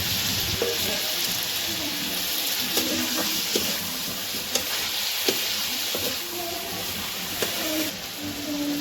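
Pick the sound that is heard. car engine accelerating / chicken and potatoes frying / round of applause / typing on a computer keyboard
chicken and potatoes frying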